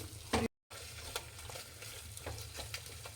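Eggs frying and being stirred in a pan while egg rice is made: a steady low sizzle runs throughout, with light scraping stir strokes, a brief louder clatter near the start and a short dropout.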